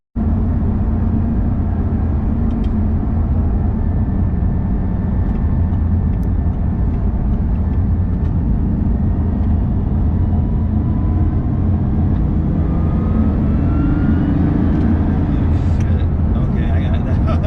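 A Bugatti Chiron Super Sport heard from inside while driving gives a loud, steady low engine and road rumble, with a gradually rising tone near the end.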